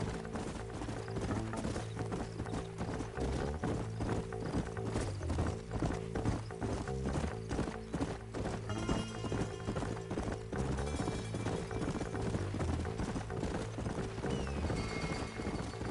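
Steady rhythmic clip-clop of horse hooves trotting in the video game Red Dead Redemption, with an occasional whinny, continuous throughout against a low background hum.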